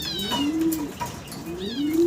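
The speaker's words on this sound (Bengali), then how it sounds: "সিঙ্গেল এক পিস মাদি কবুতর" A single female fancy pigeon coos close by in low, rolling tones, two drawn-out coos with a brief pause between them.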